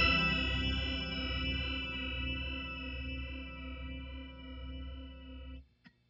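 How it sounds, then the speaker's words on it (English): Guitar through a Walrus Luminary quad octave pedal with the flutter control set low, a single sustained chord with stacked octaves swelling in a slow, wobbly chorus-like warble before cutting off, followed by a faint click. "the Flutter control, low settings. Got kind of a wobbly chorusing effect."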